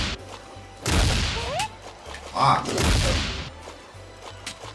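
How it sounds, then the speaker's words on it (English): Two sharp, gunshot-like bangs ring out about two seconds apart during a gaming session, each a loud broadband crack with a short tail, while voices speak around them. "Why does it sound like a gunshot?"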